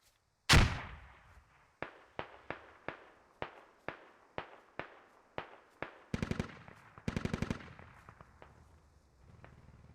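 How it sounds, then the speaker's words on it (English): Heavy tank cannon in a military shooter match fires a loud opening blast, followed by a steady run of evenly spaced sharp shots with quick rapid bursts mixed in, close and dominant with no talk. "Finally, I can hear that tank opening up."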